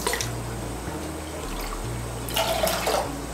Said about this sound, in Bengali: এর মধ্যে আমি 2 কাপ জল দিচ্ছি।